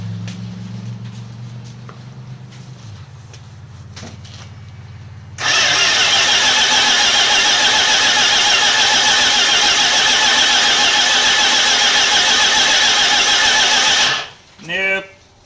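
A 1979 Chrysler 300 engine with a suspected failing fuel pump cranks loudly and continuously for about nine seconds without catching, preceded by a low idle-like hum and followed by brief voices.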